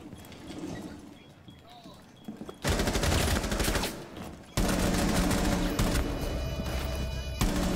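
Bursts of rapid gunfire in Rainbow Six Siege, two long loud volleys following a quieter stretch, with players talking over the game.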